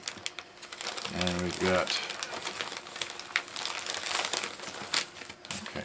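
Plastic packaging around a mixed rubber drive belt kit crackles and crinkles as it is ripped open up close, with a person talking briefly over the noise.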